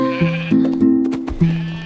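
A sheep bleats several times in quick succession, close and fairly loud, with short wavering calls breaking into one another and no voices over them.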